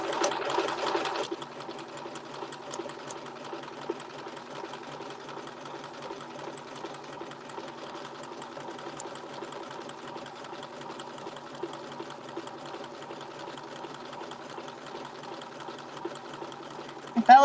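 A sewing machine runs continuously while free-motion appliqué stitching traces around snowflake shapes, a steady, fairly quiet whir with a louder start and a clunk at the end.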